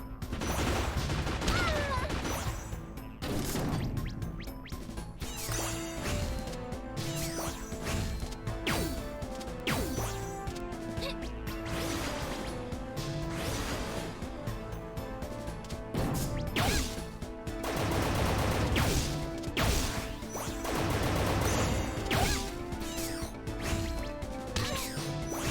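Explosions in the video game Freedom Planet 2 come as repeated crashes and blasts layered over dense, busy game music, with sharp hits recurring throughout at steady loudness.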